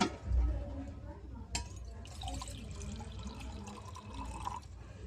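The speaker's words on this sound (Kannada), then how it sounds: "ಇದರಲ್ಲಿ ಒಂದು ಚೊಂಬು ಪೂರ್ತಿ ನೀರು ಹಾಕ್ಬಿಡ್ಬೇಕು." A faint clink, then water pours steadily into a pot with a soft splashing rush, fairly quiet and close.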